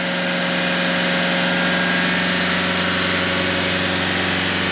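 A 2018 Renault Trafic van with a DPF fault holds its engine at a raised idle around 3,000 RPM, giving a loud, steady, droning hum with a constant tone.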